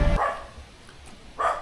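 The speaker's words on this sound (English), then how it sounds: "Oh, their dog is barking like crazy there." A dog barks twice at some distance, with a pause between the two short, sharp barks and a low background hum.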